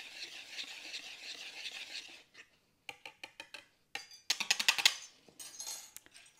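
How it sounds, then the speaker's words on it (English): A whisk beating ingredients in a bowl for honey-sweetened vanilla wafers, a quick swishing at first, then rapid rhythmic metallic clicks against the bowl in short bursts, close and fairly quiet with no talking. "Whisk this just enough to get it mixed in together."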